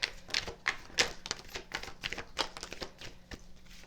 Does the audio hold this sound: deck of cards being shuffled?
yes